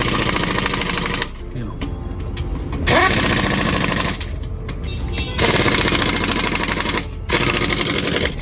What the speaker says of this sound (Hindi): ये जो अपने स्पेसर वाले नट हैं वो टाइट हो रहे हैं